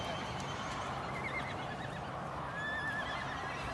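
A stallion of a large horse herd neighs and whinnies in repeated rising-falling calls over a steady outdoor background, with no talking.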